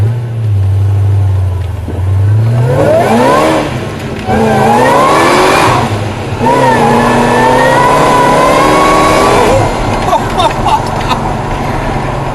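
From inside a supercharged LS1-powered car, the engine climbs from idle into hard acceleration, revving up loudly through several gears with rising, whining pitch before easing off near the end.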